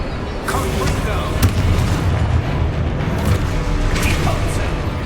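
Confringo fire spell blasts in the Hogwarts Legacy video game, booming explosive bursts over a continuous loud rumble of combat, with a voice calling out spells during it.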